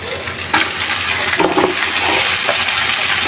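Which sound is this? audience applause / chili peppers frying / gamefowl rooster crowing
chili peppers frying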